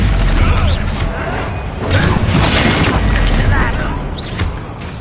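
The Bombarda blasting spell goes off in Hogwarts Legacy, a loud, sustained rumbling crash with clattering debris and magical whooshes, close and dense throughout.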